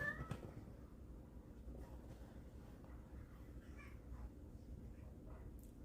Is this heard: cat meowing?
yes